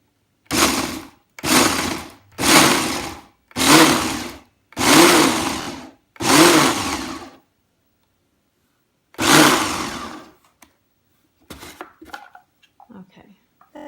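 A blender grinds ingredients for whole food plant-based crackers in seven loud, evenly spaced pulses of a few seconds each, followed by quieter clinks and faint movement.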